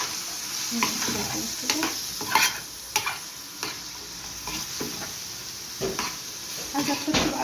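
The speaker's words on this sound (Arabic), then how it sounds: "هنا بقى ننزل بالبصله بتاعتنا الجميله. قلبي بقى" Onion stirring and frying in a pan, with a steady sizzle broken by scraping stirs and light clinks of the utensil; a brief word of speech comes in once.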